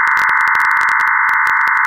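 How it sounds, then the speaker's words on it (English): Codec 2 digital voice modem signal received over the air produces a loud, continuous multi-tone buzzing hum, broken by rapid rhythmic bursts of static-like noise. "The modem signal that you hear off the air sounds like this."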